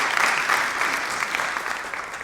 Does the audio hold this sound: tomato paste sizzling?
no